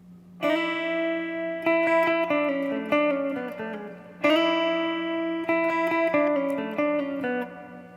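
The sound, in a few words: guitar playing intro, single note line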